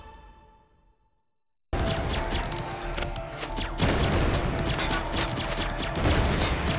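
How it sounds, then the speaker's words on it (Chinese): A close-in defense machine gun fires in the Greedland video game, a loud dense burst of rapid gunfire that erupts suddenly after a quiet fading intro and continues steadily to the end, with no talk over it. "近防机枪"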